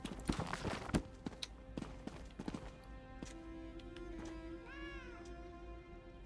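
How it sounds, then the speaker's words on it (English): A cat in the Elder Scrolls Online game gives a clear rising-and-falling meow near the end, after a few sharp clopping footsteps and a soft hum. "I hear a cat here somewhere."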